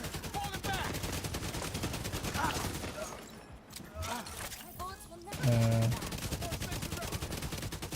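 Video game gunfire, a dense, continuous rattle of rapid shots that dips briefly midway and then resumes, with a voice speaking over it.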